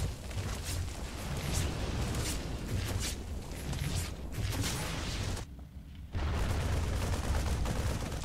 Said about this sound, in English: I got two marines shooting a Nidus Canal, and it goes down